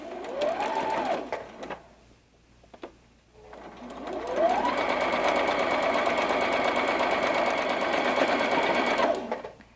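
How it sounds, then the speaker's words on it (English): A sewing machine stitches quarter-inch seams on a quilt block: a short run of fast, close mechanical whirring stops after a couple of seconds, then a long steady burst of stitching follows and ends abruptly. "As long as I'm sewing from point to point, that gives me a nice 1/4 inch seam."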